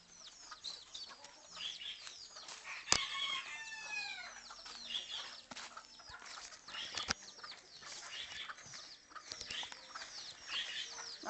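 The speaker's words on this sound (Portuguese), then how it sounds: "Olha lá o pintinho." Chickens clucking and calling in a farmyard, with a chick's high peeps among them, a brief sharp flutter of wings, fairly close and continuous with no talk.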